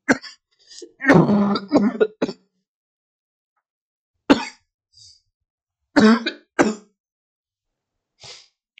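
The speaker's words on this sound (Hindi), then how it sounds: "खांसी बहुत अच्छी चल रही है।" Several sharp coughs in separate bursts, a cluster early on followed by isolated coughs after pauses, close and fairly loud with silence between.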